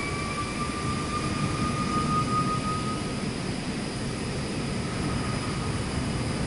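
An Airbus A320 taxiing in Microsoft Flight Simulator 2024, a steady jet engine whine and broad rumble holding constant throughout, with thin high tones running over a continuous roar and no talk.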